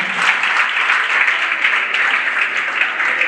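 A comedy show audience applauds, a thick, even roar of clapping hands, loud and continuous, with no break across the short stretch.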